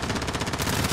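Rapid gunfire crackles in a shooter video game, a dense loud burst of repeated shots running continuously with no pause.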